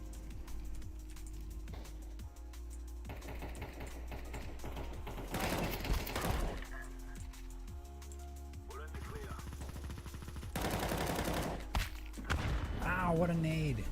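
A grenade detonates in a Counter-Strike match, a loud burst with several sharp thumps and crackling gunfire scattered through a busy game mix, with voices talking over it.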